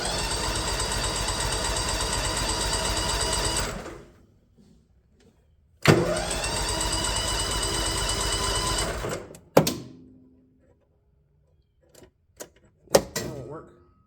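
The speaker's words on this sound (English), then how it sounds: "Choke out. Turn the key." A piece of equipment in park with the choke out and the key turned makes a loud, even mechanical whirring for about four seconds, stops, then runs again for about three seconds before a few sharp clicks and knocks.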